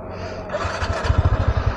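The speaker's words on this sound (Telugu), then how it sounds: "Rev up the engine." A TVS NTORQ 125 scooter engine climbs from a quiet idle into a throttle blip, then pulses in quick, uneven bursts near the exhaust, close and loud with no talking.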